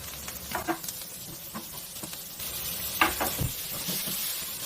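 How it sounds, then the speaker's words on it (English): Light crackling and popping sizzle of mushrooms frying in hot olive oil in a frying pan, with scattered sharper pops throughout. "Got my frying pan, high temperature olive oil. Throw my mushrooms in."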